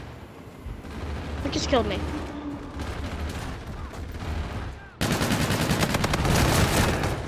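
Laser gun fire in Call of Duty: Infinite Warfare online multiplayer on Xbox One, a harsh burst of shots over constant battle noise, with a loud, dense rapid stream near the end while a player talks.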